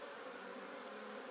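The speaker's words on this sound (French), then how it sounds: "Les abeilles, elles sont toujours là." Swarm of honeybees massed on a hive high in a barn, steady close dense buzzing that hums evenly without pause.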